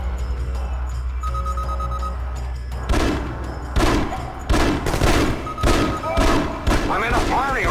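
Gunfire from the alien shooter game The Conduit, a rapid series of loud sharp shots and bursts in the second half, following a quieter stretch with a faint electronic tone and voices speaking underneath.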